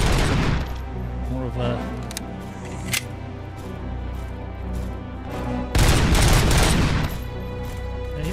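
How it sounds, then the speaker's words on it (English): Hand cannon gunfire in Robocop: Rogue City: a heavy blast opens, a sharp shot follows a few seconds later, then another booming burst with echoing tail, under a brief spoken phrase. "Use the small hand cannon."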